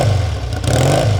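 A 1971 Triumph T100C Trophy 500cc twin with high-level pipes revs up hard, a loud, close, steady engine drone with clattery mechanical texture and no talk.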